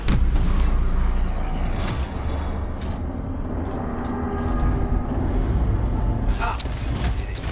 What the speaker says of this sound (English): Let's see if the door opens.